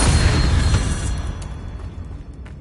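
A fiery blasting-spell explosion from the Hogwarts Legacy video game, a loud broad boom at the start that rumbles and decays over a couple of seconds with faint crackling debris.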